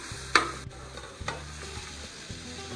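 Mutton frying in oil with garlic and ginger, a steady sizzle with occasional stirring scrapes and clinks close by, no talking.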